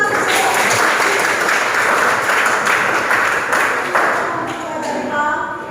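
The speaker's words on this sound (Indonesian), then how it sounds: "Tepuk tangan untuk kita." Sustained applause from a classroom of students during a lesson on human rights, dense and steady for several seconds before thinning slightly toward the end.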